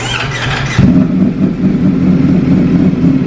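Ducati Panigale with an Akrapovic exhaust, engine idling rough and then blipping into a deeper, louder rumble that pulses on, close and loud with no talk.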